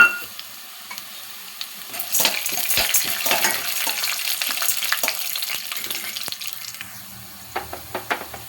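Peanuts and chana dal fry in a pan with green chillies, a close sizzle that starts after a quiet opening, swells with stirring and scraping, then fades to a few scattered clicks.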